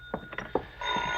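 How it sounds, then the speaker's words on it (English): A telephone rings with a sustained electronic tone. Soft thumps and shuffling footsteps come just before it, heard nearby in a quiet room. "you enter your apartment to find the phone ringing"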